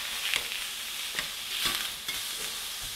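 Steak searing in a hot pan gives a steady, bright sizzle with faint crackles and small spits throughout, close up and with no one speaking.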